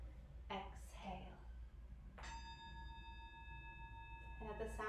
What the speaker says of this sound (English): And at the sound of my bell,